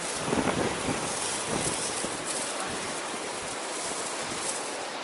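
Strong, steady wind gusts buffet the microphone beside the sea at Zelenogradsk, with a broad roaring rush and faint surf underneath.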